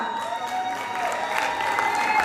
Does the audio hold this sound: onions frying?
no